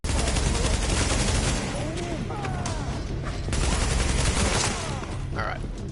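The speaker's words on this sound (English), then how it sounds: "I'm getting shot at from in front as well" Heavy gunfire in a firefight in the video game The Division, continuous rattling bursts packed close and loud across the whole stretch, with a voice speaking over part of it.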